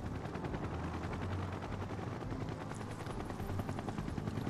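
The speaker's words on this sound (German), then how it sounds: "Was ist denn das jetzt für ein Heli?" Rapid rotor thumping of a helicopter in the video game Final Fantasy VII Rebirth, loud and close, a continuous chopping pulse with mechanical whine and no voices.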